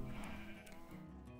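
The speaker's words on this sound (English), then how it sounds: "This is a lot of cows that I've just let loose." Cows mooing in a Minecraft game as a herd is let loose, a steady layered lowing that fills the whole moment at moderate volume with no voices over it.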